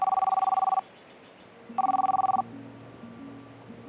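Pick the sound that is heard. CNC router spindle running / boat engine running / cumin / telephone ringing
telephone ringing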